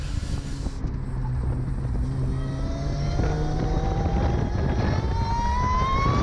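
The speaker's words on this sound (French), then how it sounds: "Réaccélération encore plus rapide." An Ariel Atom's engine revs up hard on a race circuit, its pitch climbing steadily through the gear as the car accelerates, loud and close over rushing wind.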